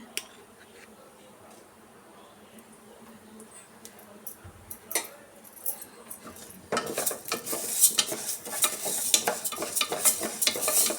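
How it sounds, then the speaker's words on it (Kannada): Moong dal roasting in GRB ghee for hesarubele payasa: quiet low scraping at first, then from midway a denser run of rapid spoon stirs, scrapes and soft crackling that grows louder toward the end. "ಸ್ವಲ್ಪ ತುಪ್ಪ ಸೇರಿಸ್ಕೊಂಡು ಹುರ್ಕೊಳ್ಳೋಣ"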